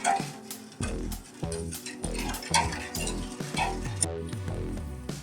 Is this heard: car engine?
no